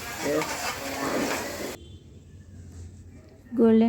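Onion paste is stirred and fried in a pan for a chicken gravy curry, with a busy sizzle and scraping for under two seconds before it quiets to a low hiss, and a voice speaking at the end.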